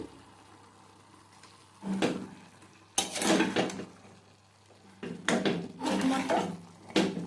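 Spinach dal with turmeric, chili powder and salt being stirred in a pan: a few distinct bursts of metal spoon scraping and clattering against the pan, separated by quieter pauses.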